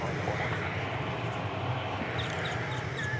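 An American Airlines Airbus A320 airliner at DFW Airport gives a steady, broad roar of jet engine noise that holds at an even loudness throughout, with no talk over it.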